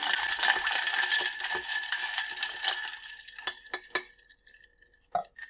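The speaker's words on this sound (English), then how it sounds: "And just add about 2 cups of ice to your lemonade. And just give it a stir." About two cups of ice stirred into a pitcher of fresh summer lemonade: a dense, steady rattle of ice and liquid gives way to a few sharp, separate glassy clinks that thin out toward the end.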